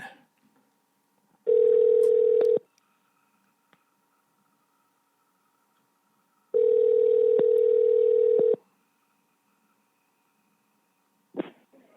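Telephone dial tone heard while calling a landline: two steady, loud tone bursts of about one to two seconds each, separated by silence, with a brief click near the end and no talk.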